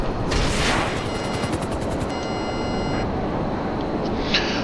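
Rapid weapon fire aimed at a shipment crate in GTA Online, a dense burst of repeated shots over loud continuous game noise, followed by a sustained roar and a brief sharp burst near the end.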